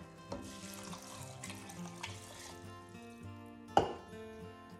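Water runs and splashes steadily into a pot for lentil soup, a soft continuous pour with a brief clink partway through, close and fairly quiet.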